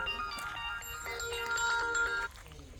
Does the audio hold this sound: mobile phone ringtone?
yes